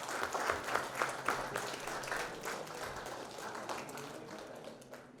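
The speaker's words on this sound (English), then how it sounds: "Big hand applause for them" Audience applause at a 2024 IEEE conference in Raichur, a steady spread of hand clapping that starts with a few sharper claps and then settles into a fairly even patter, moderately loud and fading slightly toward the end.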